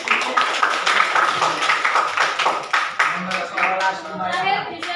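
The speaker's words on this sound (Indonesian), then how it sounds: "tepuk tangan buat Nalesa." A group in a classroom claps for a student receiving a prize: a quick, uneven patter of hand claps that is fairly close and steady, with voices and talk mixed in throughout.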